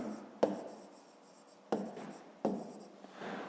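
Pen writing by hand on paper while a Grade 5 maths exercise is worked through, three quick scratchy strokes each trailing into a soft rub, close and quiet with no voices.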